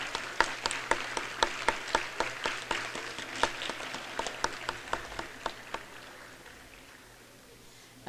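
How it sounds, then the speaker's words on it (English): Sparse, fading applause at an elementary school Veterans Day program, honoring veterans: a modest run of evenly spaced claps that thins out and trails off to near quiet. "Let's give them another round of applause"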